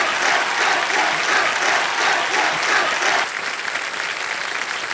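On the Hindi Wheel of Fortune game show, the studio audience gives loud, dense, continuous applause that eases slightly toward the end.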